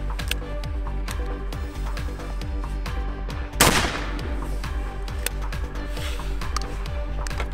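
A single loud, sharp blast from a shotgun pistol fired outdoors stands out against steady background noise and a rhythmic mechanical ticking, with no talk during the shot.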